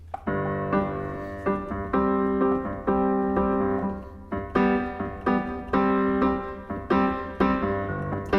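A piano plays the bright, rhythmic intro of Jessie J's "Domino" with repeated chords and notes, solo and clear, no voices.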